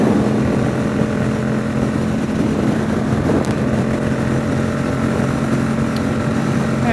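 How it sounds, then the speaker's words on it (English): Yamaha FZ07 motorcycle on a ride in Ohio, a continuous loud engine drone blended with heavy wind rush, steady throughout with no talk. "I'm just out enjoying a little ride on the FZ07."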